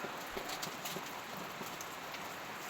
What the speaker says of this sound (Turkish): Yağmur yağmaya başladı.